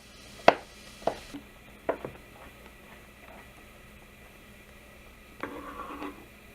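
Knife coarsely chopping butternut squash on a cutting board, three sharp close chops spaced about a second apart, then a quieter scrape or shuffle of pieces near the end, no talking.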